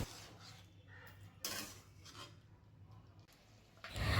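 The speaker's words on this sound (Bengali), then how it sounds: "চিনিটা দিয়ে আমি ভালোভাবে মিশিয়ে নিচ্ছি।" A spoon stirs and scrapes through sukto curry in a pan after sugar is added, soft intermittent rubbing and metallic scraping strokes, close and quiet.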